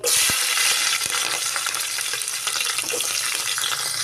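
Ginger sizzles loudly in hot oil in a pan while a mutton curry is being cooked, a steady close crackle with a few clinks of a spoon stirring.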